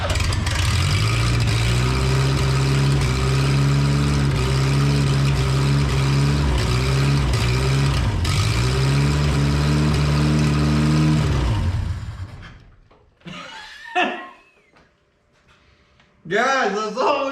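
An old U-Haul mini box truck engine turns over and runs loud and steady, then cuts out, followed by voices talking nearby.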